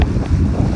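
A sailboat, the Harryproa catamaran Aroha, runs downwind with its motor off, giving a steady low rush of wind and water with constant microphone buffeting and no voices.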